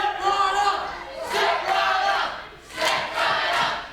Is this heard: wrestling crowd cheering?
yes